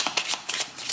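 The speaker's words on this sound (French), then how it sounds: "On va tirer une autre carte dessus pour voir de quoi on nous parle" A tarot card slid from the deck during a reading, giving a quick run of soft, crisp papery flicks and rustles, close and fairly loud, with no voice over them.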